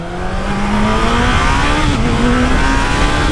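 A motorcycle engine revs hard close by, a loud steady roar with rising pitch as it accelerates and pulls away, steady and continuous with no talking over it.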